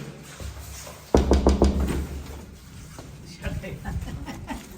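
A quick burst of several sharp knocks on a door sounds close and loud, followed by quieter shuffling, with a person talking around it.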